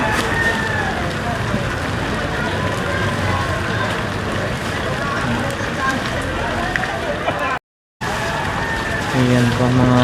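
Steady rain hisses down on an outdoor street market, a continuous wash of noise throughout with people talking over it and a brief dropout near the end.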